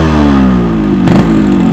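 A Yamaha RX 135 two-stroke motorcycle pulls away in first gear, loud and close, with a steady buzzing beat that climbs in pitch under the throttle and one brief rattly burst midway.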